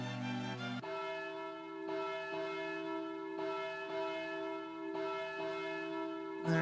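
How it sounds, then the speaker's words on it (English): Wedding church bells toll in the Harvest Moon DS Cute video game, sustained ringing tones struck repeatedly at a slow, even pace, clear and alone after a brief musical chord at the start. "After the bells toll."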